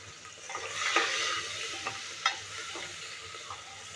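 Tomato, garlic and curry leaves frying in a pan, a steady close sizzle broken by a few scrapes of stirring, with no voices.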